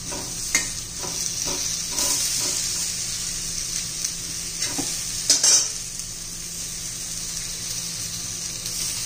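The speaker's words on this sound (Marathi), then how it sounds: "छान आपण दोन्ही बाजूने चांगलं असं परतून घेऊया।" Steady oil sizzle from raw banana pieces sautéing in a pan, with a few soft scrapes and taps as the pieces are turned, close and constant with no speech.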